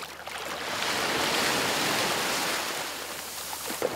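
Sea waves at a shoreline used for marine therapy, a broad continuous wash of surf swelling and easing, fairly loud and close, with no talk.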